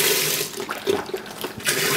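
Fat-free, low-sodium beef broth poured into a pot of beef and red potato soup, a close continuous gushing splash of liquid that lasts the whole moment.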